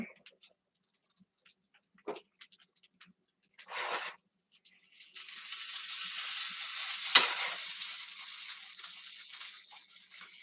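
Vegan breakfast sausages fry in a pan, a few light clicks and stirring scrapes giving way to a steady soft sizzle.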